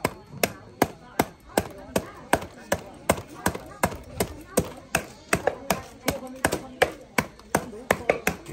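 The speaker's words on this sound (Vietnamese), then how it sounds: "Đang băm làm tiết canh nha các bác." A knife chops meat for Vietnamese blood pudding on a board at a housewarming feast, with loud, steady, evenly spaced thwacks about twice per second, close up, over faint background voices.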